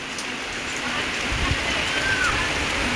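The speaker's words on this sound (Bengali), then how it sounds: "কলতলায় কাজ করতে করতে বৃষ্টি শুরু হয়ে গেছে" Rain falls steadily near an outdoor tap area by a house, a continuous even hiss of drops on surfaces with no break, moderately loud and close.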